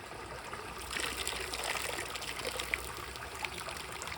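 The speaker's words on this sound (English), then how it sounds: "water's coming out the top right there" Faint, steady trickle of water leaking out of a homemade boat built from garbage bags, a soft continuous dribble with a couple of small drips near the end.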